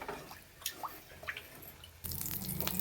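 Tamarind water drips and trickles faintly into a clay pot, then a louder splashing pour starts and continues, no voices.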